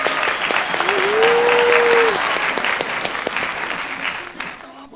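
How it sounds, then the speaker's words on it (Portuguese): Loud, sustained applause from a crowd fills the whole stretch, with a brief sung or spoken voice rising above the clapping near the start. "uma salva de palmas"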